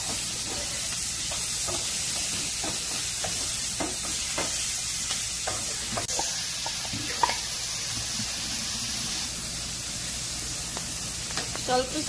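Vegetables for noodles sizzle and hiss in a hot pan while a utensil stirs them with repeated scraping taps, a steady frying bed throughout.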